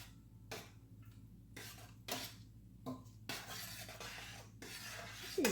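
Marinara sauce is stirred in a pot, with quiet, irregular bursts of utensil scraping and clinking against the pot, separated by short pauses.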